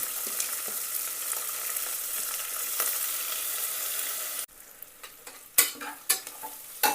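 Chopped onions and green chillies sizzle in hot oil for upma, a steady bright hiss that drops off suddenly, followed by a few sharp clinks and scrapes of a spoon in the pan, close up.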